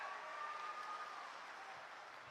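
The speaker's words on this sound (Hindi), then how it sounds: "जरा जोरदार तालियों से उनका स्वागत करो, एक साथ जोरदार तालियां बजाकर" Faint, distant crowd applause at an outdoor political rally in Jobat, a broad hiss of many hands clapping heard from afar, with a thin steady tone running through it.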